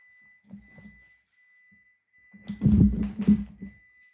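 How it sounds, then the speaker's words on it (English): A refrigerator's door-open alarm chirps faintly with a few short beeps, followed by a louder burst of clattering, mixed noise. "I left the refrigerator open. Now this thing's beeping."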